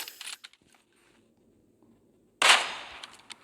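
Sharp crack of a Kar98 bolt-action rifle shot in PUBG Mobile, a loud single burst with a short ringing tail after a near-silent stretch, with fainter clicks and handling noises before it.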